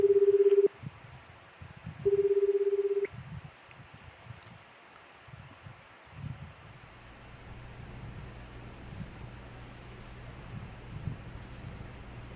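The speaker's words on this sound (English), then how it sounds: "Kano immediately pulled out his cell phone and called Tateno's number" A cell phone dials a number: two short, clear keypad tones, the second held about a second, then faint rustling and a low background hum.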